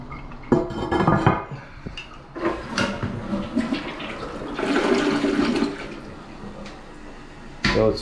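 Water rushes and gurgles steadily as a toilet tank refills during a triplex renovation, with a few sharp knocks and surges near the start and end.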